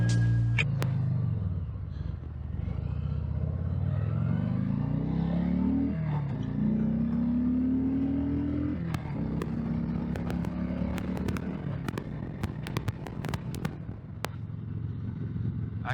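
Harley-Davidson motorcycle engine rumbling steadily while riding, a low continuous drone whose pitch rises and falls with throttle changes, with scattered sharp clicks and clatter later on.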